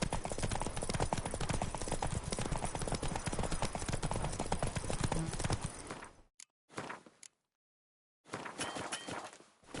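Horse hooves clip-clop in a PS4 game in a steady rhythmic walk for several seconds, then cut out abruptly and return only in brief fragments separated by silence.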